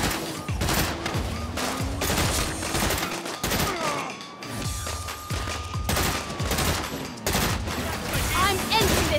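Dense gunfire in a Saints Row police shootout, with bursts of rapid shots and heavy thuds running almost continuously at close range, while vehicle and engine noise sits beneath and a few voices briefly cut in.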